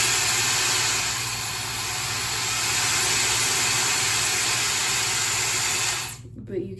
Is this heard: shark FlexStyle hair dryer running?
yes